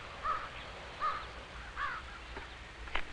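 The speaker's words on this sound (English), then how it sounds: "And the mother bird's call. All these are signs that tell us a crow has its nest here." A mother crow calls near her nest with harsh, separate caws, three clear ones spaced about a second apart and fainter calls after, heard outdoors at moderate distance over soft background noise.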